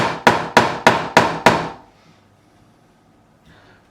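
A fretting hammer knocks a fret into the neck of a Korean-made Fender Light Ash Telecaster during a re-fret, striking six sharp, evenly spaced blows, then falling quiet.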